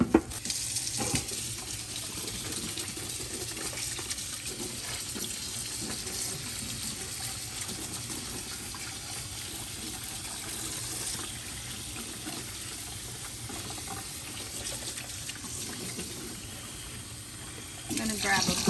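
A kitchen tap runs steadily as dirty sweet potatoes are rinsed in a sink, with a continuous watery hiss throughout and handling noises at the start and end.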